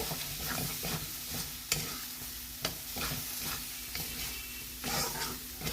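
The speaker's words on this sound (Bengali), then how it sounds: "মশলাটা আমি অনেকক্ষণ ধরেই কষিয়ে নিয়েছি।" Masala fries in oil in a pan while a spoon scrapes and stirs it in regular strokes over a continuous soft sizzle, close and clear with no talking.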